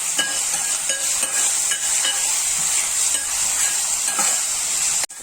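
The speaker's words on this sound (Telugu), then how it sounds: "ఇప్పుడు ఇది ఉల్లిపాయ వేగిందండి." Onions frying with green chillies and curry leaves in a pan for a phool makhana gravy curry give a steady, bright sizzle, punctuated by a few soft stirring scrapes, close and with no talking.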